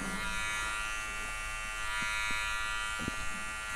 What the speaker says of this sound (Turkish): Bakın sadece bir makine ağzı dokundurmak.